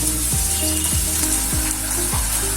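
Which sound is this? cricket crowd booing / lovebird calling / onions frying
onions frying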